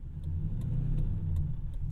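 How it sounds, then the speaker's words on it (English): A manual Ford Crown Victoria drives along, its engine a steady low rumble heard from inside the cabin, with faint regular ticks over the hum and no talk. "All right, we're driving the manual Crown Victoria"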